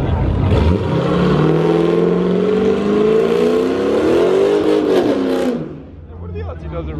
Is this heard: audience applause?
no